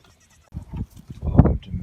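Goats bleating during morning farm chores, a few short, wavering calls close by, the loudest near the end, after a moment of quiet.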